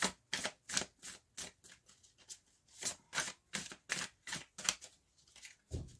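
Tarot cards being shuffled by hand, a series of crisp riffling bursts close by, coming in quick irregular bunches with short pauses between, fairly quiet and without talk.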